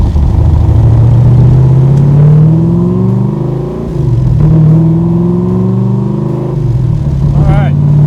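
A 1965 Backdraft Cobra's engine pulls at low speed, its deep rumbling note rising and falling with the throttle, heard from inside the car under people talking.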